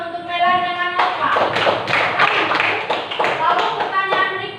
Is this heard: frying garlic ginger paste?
no